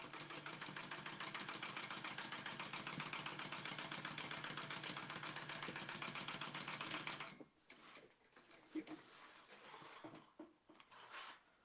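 A sewing machine top-stitches a clutch wallet with a fast, steady mechanical whir and rapid needle rattle for about seven seconds, then stops, leaving quiet room noise with a few faint knocks and handling sounds.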